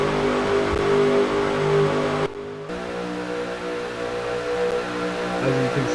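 Race car engines in a sprint cup racing video game during green flag racing at Los Angeles, giving a loud, continuous drone that drops out briefly for a moment before resuming at full strength.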